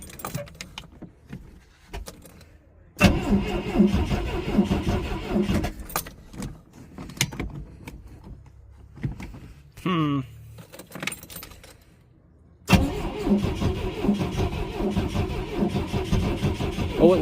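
Boat engine cranking over slowly on a weak battery, several labored starter attempts separated by pauses, loud and close, with people talking around it.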